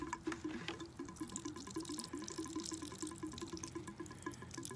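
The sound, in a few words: residual water dripping from a hose at a shut-off sill cock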